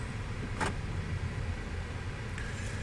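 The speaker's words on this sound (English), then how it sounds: "I'm going in the main entrance of the cemetery here. I got to be careful driving." Car rolling slowly through the main entrance of Fort Indiantown Gap National Cemetery, a steady low cabin rumble with a brief faint rattle and a soft mechanical whir, no voices.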